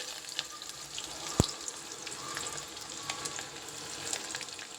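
Onions frying in well-heated oil, a continuous close sizzle with a faint hiss of spattering and one sharp knock early on, heard alone without talk.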